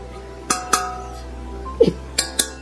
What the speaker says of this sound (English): It clinks like it's plate.